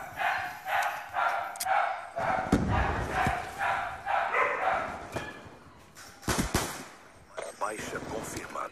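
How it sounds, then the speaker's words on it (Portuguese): Dogs bark in a house during Call of Duty Black Ops 2 gameplay, with repeated bursts mixed among loud game gunfire and thuds. "Meus cachorros latem, como sempre, participando da cena."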